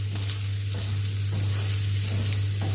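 Chicken sausage frying in a small amount of oil in a pan, giving a steady, close, even sizzle with a constant low hum underneath and no voices.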